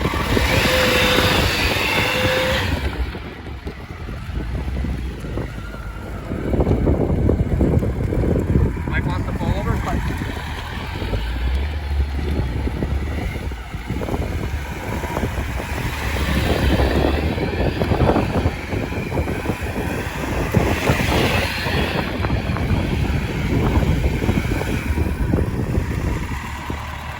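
Motorcycle engine idling low while the rider slips the clutch at low speed during slow turns, a rough, rumbling drone with small surges. Someone talks over it throughout.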